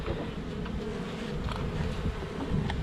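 Honey bees buzz around a swarm trap in a dense, steady drone that holds unbroken from start to end, close and moderately loud with no voices.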